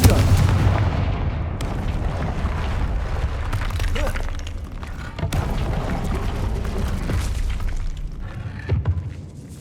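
Repeated heavy blasts of the Confringo fire spell in the video game Hogwarts Legacy, booming explosions and rumbling impacts that fill the whole stretch with dense, continuous low-end crashes and sharp onsets.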